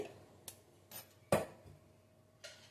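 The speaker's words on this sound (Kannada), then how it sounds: "ನಾನು ನೋಡ್ರಿ ಕುಕ್ಕರ್ ಮುಚ್ಚಳ ಮುಚ್ತಾ ಇದ್ದೀನಿ" A metal pressure cooker lid is fitted and closed on a pot of toor dal pulao, giving a few sharp, faint metallic clinks and one louder clank, spaced apart in a quiet kitchen.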